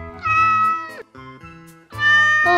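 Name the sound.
cat meowing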